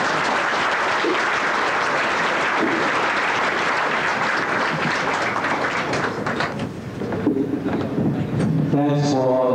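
Audience applause fills the room steadily after a speech at a Taiwan–US trade and economic event, dense clapping that tapers near the end as tonal music or voices rise beneath it.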